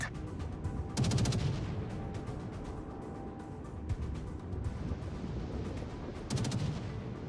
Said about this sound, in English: Concentrate fire on the designated target.